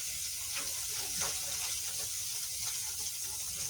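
An orange being washed under a running kitchen tap, a steady rush of water with soft irregular splashes as the fruit is turned in the stream, moderately quiet and alone.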